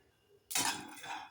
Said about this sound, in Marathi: सारखं हलवत राहून आपण शेंगदाणे खरपूस भाजून घेऊया.